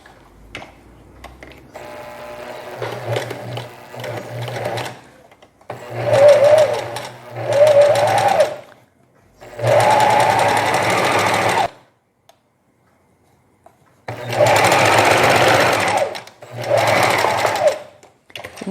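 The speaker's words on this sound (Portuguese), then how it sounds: "Escolher aqui uma espessura do zigue-zague não muito grande e vou passar a" A domestic sewing machine runs a zigzag stitch through knit fabric in several loud, rhythmic bursts of rapid mechanical chatter separated by short pauses, including one longer silent gap.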